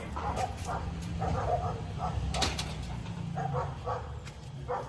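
Dogs barking and yipping near a village property, a few short bursts of barks spread irregularly over several seconds against faint outdoor background noise, with no talking.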